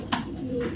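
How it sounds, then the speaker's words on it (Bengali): A racing pigeon gives a brief, soft, low coo, heard close, with a faint sharp tap just before it. "এটাও রেস করা কবুতর"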